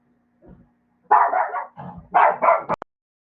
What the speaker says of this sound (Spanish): acá mi perrito está que me hace mucha bulla